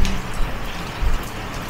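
Steady, dense rain pours down in a continuous hiss with a few heavier thuds, loud and close.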